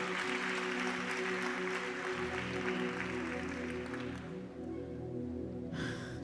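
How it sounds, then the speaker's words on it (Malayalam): Applause from a church congregation during a Sunday family blessing service, steady clapping from many hands, loud and close, with sustained organ or keyboard tones underneath. "അഭിമാനമുള്ളവർ കൈയടിച്ച് ഈ രാജാതിരാജാവിന് നന്ദി പറയാം."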